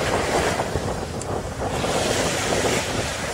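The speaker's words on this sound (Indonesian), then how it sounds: "Anginnya juga sangat kencang," Strong wind buffets the open shore at Klotok beach, with surf rolling in beneath it as a steady, loud roar that fills the scene without a pause and with no talking.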